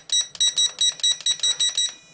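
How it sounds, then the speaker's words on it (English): Steering trim on a KD-Summit S600 4WD RC car gives a quick run of about eight short, bright electronic beeps in a steady rhythm, close and clear with no talking. "You'll hear a little beep as I adjust that."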